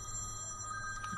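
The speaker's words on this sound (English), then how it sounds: "We got a phone call." A telephone rings at a busy barbecue joint, a steady electronic bell tone sounding through the room over faint background clatter, with no talk over it.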